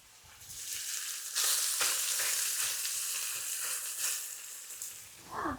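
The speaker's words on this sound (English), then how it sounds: "So that bacon is still cooking away." Bacon strips fry in a pan, giving a steady, close crackling sizzle with sharper pops scattered through it, loud and continuous and with no voices.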